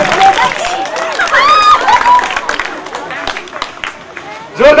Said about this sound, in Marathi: सगळ्यांच्या एकदा जोरदार टाळ्या झाल्या पाहिजे.